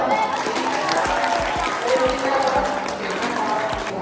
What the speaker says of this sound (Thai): เล่นเดียวเก่งมากนะปรบมือให้ลุกๆครับ